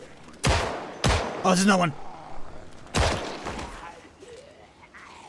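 Loud gunshots crack out in Project Zomboid, three or four sharp separate blasts spaced about a second apart, with someone shouting briefly between them.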